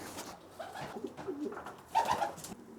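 Racing pigeons cooing at the loft as they return from a flight, soft throaty coos in several short bursts, near and fairly quiet, with one louder call toward the end.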